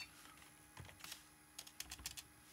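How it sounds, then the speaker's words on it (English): Someone types on a computer keyboard with one hand: a few quiet, close keystrokes in short uneven bursts, with pauses between them. "typing with one hand. That's always fun."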